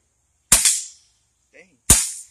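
Two sharp pops from an inexpensive Umarex air pistol fired at a target, about a second and a half apart, close and crisp with a short ring after each, and a faint tick between them.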